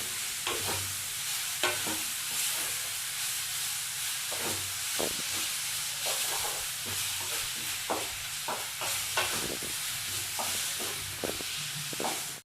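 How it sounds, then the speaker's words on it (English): Tomato frying in a pan for paneer masala, a continuous close sizzle broken by frequent sharp spatula clicks and scrapes as it is stirred, with no voices. "add some tomato and then we should fry it"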